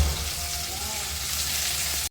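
Onion and bay leaf fry in hot oil, a dense, steady, loud sizzle heard close up for about two seconds before cutting off abruptly.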